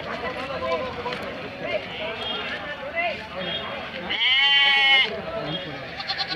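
Lambs and sheep bleat at the Tumakuru livestock market, one prolonged bleat standing out close by amid busy crowd chatter and voices of buyers and sellers talking throughout.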